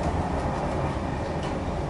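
Train riding through Europe: dense, steady low rumble of rolling carriages heard from inside, continuous and even, with no voices.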